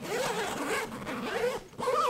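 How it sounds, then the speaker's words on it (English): A zipper on a structured bag from a SYMPL collection is pulled in one quick, close, rasping run lasting about two seconds. "when you pull your zipper up against it, it doesn't ruffle this thing"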